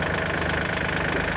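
A farm tractor's engine runs at a steady idle, a continuous close rumble with no talk over it.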